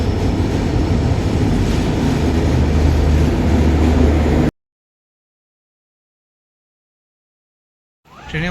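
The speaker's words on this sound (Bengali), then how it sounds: "আর আমার ট্রেন এক্ষুনি আসবে" A train rumbles loudly and steadily at a railway station platform, a broad continuous roar for about four seconds before the sound drops out to silence, returning faintly near the end.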